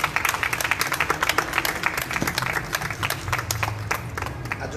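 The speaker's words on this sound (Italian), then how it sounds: "Aggiungerei un applauso per Fabiana Sera" Audience at a book presentation breaks into steady applause, many hands clapping densely in a room at moderate distance, continuous throughout with no voices standing out.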